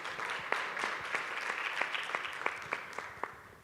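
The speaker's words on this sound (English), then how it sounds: "I believe that we could give them another round of applause." A modest round of applause from a seminar audience, with individual claps standing out sharply against a softer wash of clapping that gradually thins toward the end.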